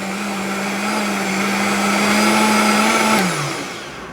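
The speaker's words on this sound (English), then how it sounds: "now I'm going to blend all of that in my blender" A countertop blender whirs loudly and steadily while blending dairy-free nacho cheese sauce ingredients, including carrots, its motor pitch holding constant before winding down near the end.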